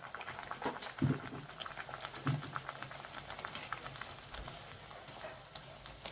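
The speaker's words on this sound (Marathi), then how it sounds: "लाल होईपर्यंत अशा तळून घ्यायच्या छानपैकी अशा" Sweet puris deep-frying in hot oil, two or three at a time, a continuous bubbling crackle with scattered pops and occasional soft knocks, fairly quiet and close.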